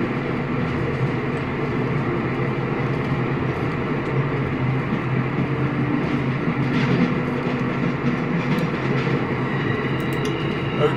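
A train rolling along in The Walking Dead game, a steady, continuous rumble and rattle of rail cars that holds evenly loud throughout with faint clanks on top.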